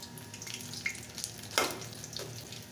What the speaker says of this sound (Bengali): দিয়ে দিচ্ছি তেল, দিয়ে দিচ্ছি সেই মিষ্টি কুমড়োগুলোকে তেলে ভেজে নেব।